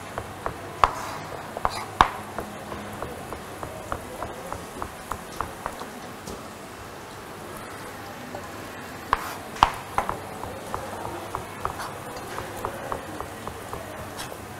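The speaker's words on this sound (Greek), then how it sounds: "Κόβουμε και τα μανιτάρια." A knife chops mushrooms on a cutting board in a home kitchen while vegetables are cooked, giving a steady run of sharp, close taps in quick rhythm, pausing briefly mid-way before resuming, over a soft background hum.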